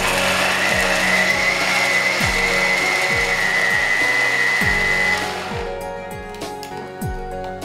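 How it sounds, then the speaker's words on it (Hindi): An electric kitchen grinder whirs loudly and steadily while processing chutney ingredients, its motor pitch then dropping as it winds down near the end. "ये ग्राइंडर में डालेंगे हम ये सारे इंग्रेडिएंट जो हमने ले लिए हैं, और डालने के बाद इसको पीस लेंगे"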